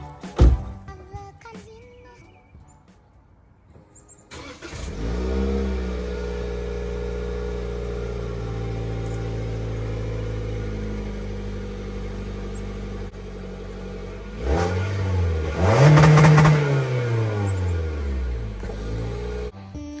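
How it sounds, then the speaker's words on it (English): Stock exhaust on a 2020 Toyota Corolla during a semi-cold start: the engine cranks and catches about four seconds in, settles into a steady, even idle, then gets a brief rise in revs near the end before easing back down. "we're gonna get a stock startup, cold start"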